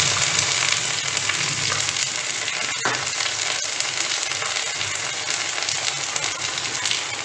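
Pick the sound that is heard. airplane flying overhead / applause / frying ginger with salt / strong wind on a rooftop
frying ginger with salt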